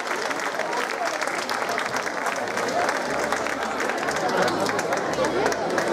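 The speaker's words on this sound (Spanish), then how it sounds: "Venga, el aplauso fuerte que se escuche." Loud, sustained applause from a large crowd at a Romera Mayor festival gala in Chío, dense clapping filling the whole span with a faint murmur of voices mixed in.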